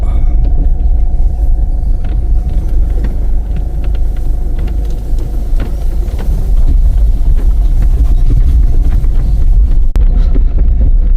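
A car drives up a steep access track at a work site, its engine rumbling loud and steady throughout with wind buffeting the microphone and small knocks from the rough ground, no talk.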